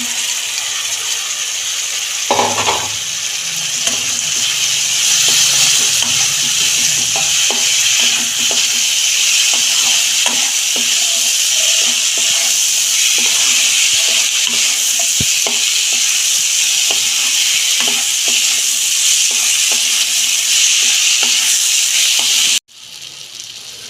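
Soybean chunks fry in a pan with a loud, continuous sizzle and crackle, stirred throughout with frequent scraping clicks, ending abruptly near the close.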